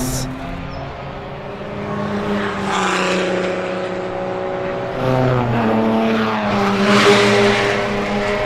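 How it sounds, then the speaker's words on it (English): Race cars entering the pits at Redstar Raceway during a 24-hour endurance race, engines droning and revving nearby in overlapping tones that rise and fall as cars pass, with voices faintly mixed in. "more and more cars seem to be coming in for a quick pit stop, driver change, and before they get back out on the track"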